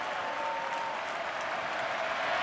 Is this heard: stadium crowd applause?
yes